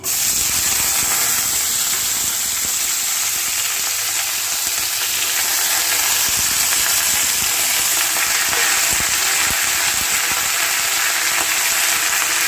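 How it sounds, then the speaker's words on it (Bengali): Cauliflower, green peas, beans, carrot and capsicum with whole garam masala and bay leaf frying in hot oil, producing a loud, continuous, close-up sizzle with faint stirring underneath throughout. "তেলের মধ্যে দিয়ে দিলাম গরম মশলা ফোড়ন, তেজপাতা, কেটে রাখা সবজি, ফুলকপি, কড়াইশুঁটি, বিনস, গাজর, ক্যাপসিকাম"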